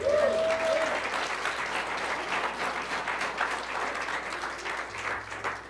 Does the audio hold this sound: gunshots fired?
no